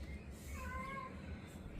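A single pet cat gives one drawn-out meow near the middle of the moment, moderately close and fairly soft over a low background rumble.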